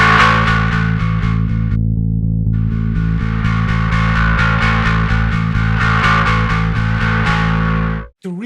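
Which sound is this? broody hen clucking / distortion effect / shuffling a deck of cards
distortion effect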